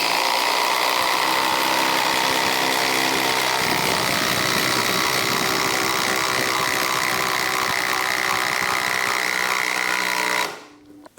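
A DeWALT DCF870 oil-pulse impact driver runs continuously after being warmed up from frozen, a loud steady mechanical buzz with a rougher change partway through before it stops abruptly near the end.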